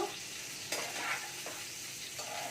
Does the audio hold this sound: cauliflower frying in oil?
yes